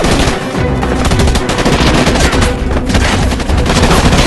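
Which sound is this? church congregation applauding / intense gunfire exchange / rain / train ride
intense gunfire exchange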